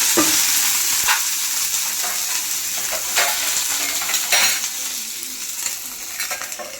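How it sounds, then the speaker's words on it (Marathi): Green chillies roasting in oil with peanuts and garlic, a continuous close crackling sizzle with sharp pops and spatters scattered through it, no voices. "शेंगदाणे घेतले, लसूण घेतलं आणि ते मिरच्या भाजते बाजूला"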